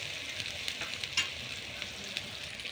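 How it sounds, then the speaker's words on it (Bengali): Turmeric stirred into ghee with onion and garlic in a hot pan, giving a continuous bright hiss of frying with a few sharp spoon scrapes, close and moderately loud, no voices. "এবার মিক্স করে নেব।"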